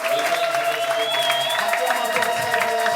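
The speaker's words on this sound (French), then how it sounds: "je veux encore écouter tes acclamations" Church congregation at a Sunday service cheering and applauding, a continuous crowd roar of clapping and voices with a sustained tone running through it.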